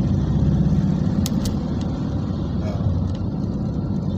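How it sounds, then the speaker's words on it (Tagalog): Steady road traffic rumbles below the Skyway, a continuous low drone of car and truck engines close by, with a few brief higher-pitched squeaks or horn-like blips standing out over the wash of vehicles. "Dito sa baba, traffic din."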